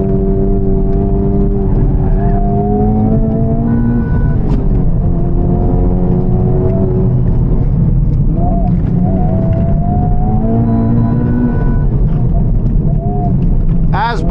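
A Honda Civic Type R FL5 on track-focused coilovers lapping a racetrack, its engine droning loud and steady with shifting pitch as it pulls through corners, heavy road and wind rumble underneath, continuous throughout.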